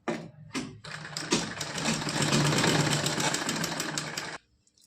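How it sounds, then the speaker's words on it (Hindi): Electric sewing machine running a straight stitch along a cotton strip for a small deity dress, a dense continuous whirring after a couple of short starts, close and steady, then stopping abruptly. "इस तरह से इस पर सिलाई लगाकर कंप्लीट करना है।"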